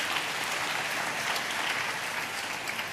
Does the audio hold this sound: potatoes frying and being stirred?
no